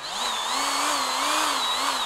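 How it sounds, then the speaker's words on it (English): A DeWalt DCG426 cordless die grinder runs continuously at high speed, a loud, close, steady whine with slight wavering pitch and no talk. "Here is the DCG 426, this die grinder."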